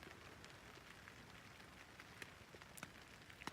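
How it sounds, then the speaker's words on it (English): Rain patters steadily on a tent on the Appalachian Trail, a soft continuous hiss with scattered sharper drops, faint and close, with no voices. "walk through how to take the tent down in the rain, trying not to drench everything"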